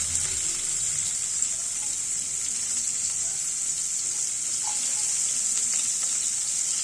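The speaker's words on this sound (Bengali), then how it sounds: "আমাদের অয়েলটা গরম হয়ে গেছে একে একে আমরা সবজিগুলো দিয়ে নেব এখানে আমরা পেঁয়াজ দেব পেঁয়াজ কুচি" Chopped onions fry in hot oil for a vegetable chow mein, a steady, bright sizzle that stays loud and even throughout, with no voice.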